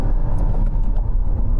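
A Dacia Jogger launching hard with wheel spin, nose up under a heavy load in the boot: a loud, close, continuous low engine and tyre rumble over a short burst.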